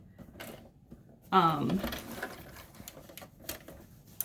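A sewing machine stitching a tote makes a short, close, rapid mechanical run as it backstitches, followed by faint handling clicks. Quiet speech is heard around it.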